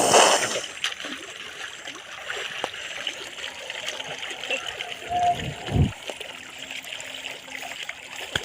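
Water is poured out during a village Mattu Pongal celebration, a steady trickle and splash running under the scene, with a brief louder slosh midway and occasional voices nearby.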